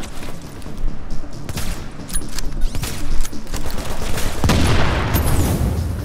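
Turret gunfire in The Division video game: rapid bursts of loud shots and impacts keep going throughout, mixed with booms and dense game noise.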